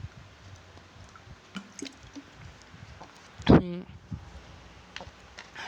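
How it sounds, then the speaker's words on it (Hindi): A man drinks water during an online NEET revision class: a quiet room with faint clicks and small liquid sounds, then a short, loud gulp and swallow close to the microphone, followed by soft clicks. "रुको पानी पी लेता हूँ थोड़ा।"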